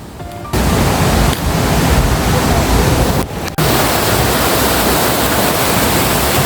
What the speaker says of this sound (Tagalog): naririnig ko na nga yung flow ng tubig